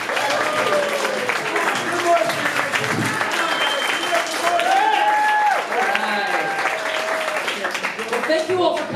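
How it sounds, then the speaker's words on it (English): Comedy club audience at the Broadway Comedy Club applauds a comedian taking the stage during a comedy finals night, steady loud clapping and cheering sustained throughout with voices mixed in. "Give Moishie Gamss a nice round of applause."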